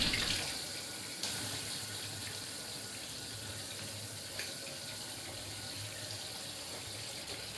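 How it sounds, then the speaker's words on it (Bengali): A tap runs steadily while pomfret fish are washed in a kitchen sink, giving a continuous close splashing rush of water with faint clatters and no talk. "তো চলুন মাছ টাছগুলো ধুয়ে নিই।"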